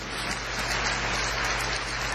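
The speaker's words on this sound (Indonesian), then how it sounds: "Beri tepuk tangan yang meriah buat Tuhan." A church congregation applauds, a dense, steady wash of many hands clapping that sounds like heavy rain, continuous throughout with no talk.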